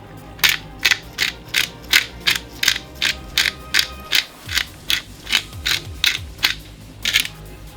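A pepper grinder cranks peppercorns over a vegan tuna sandwich mixture, giving a steady run of about fifteen sharp ratcheting crunches in even rhythm, close and clear with no talking.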